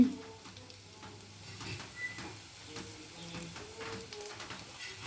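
Onions frying in oil for birista, a soft steady sizzle running low and fairly quiet throughout, with faint stirring scrapes now and then.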